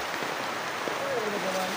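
Rain falls in a steady, dense hiss that fills the whole short stretch, with a faint tonal sound drifting through near the end.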